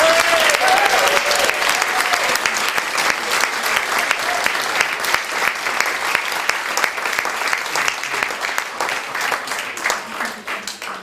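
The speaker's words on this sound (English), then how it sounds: "So give them one more big round of applause." Loud, sustained audience applause and clapping for ballroom dancers in a televised dance competition studio, filling the whole stretch with dense, steady clapping that fades slightly at the end.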